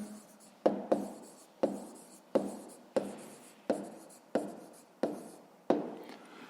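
A pen or pencil writes out notes by hand during a fifth-grade math lesson, a series of crisp, close strokes and taps recurring about every second with a soft scratchy trail after each, with no voices.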